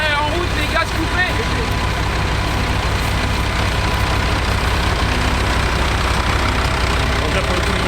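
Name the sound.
harvest tricycle engine running during grain harvest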